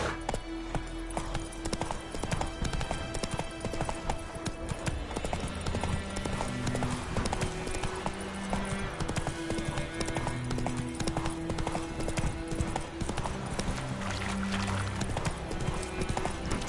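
Roach, the horse in The Witcher 3, gallops in a steady, rapid clip-clop of hooves that runs throughout, with faint game music and an occasional snort underneath.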